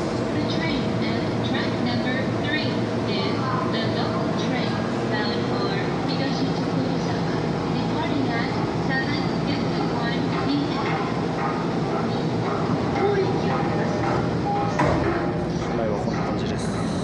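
A JR Musashino Line electric commuter train from Fuchūhonmachi to Higashi-Tokorozawa rumbles along steadily with a continuous rolling roar and faint rhythmic clatter, heard from inside a carriage with a voice talking over it.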